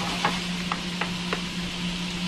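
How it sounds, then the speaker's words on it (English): Chicken frying in a hot pan, a soft steady sizzle with a few light stirring scrapes, close and continuous without speech. "We're going to even our chicken out and let this cook."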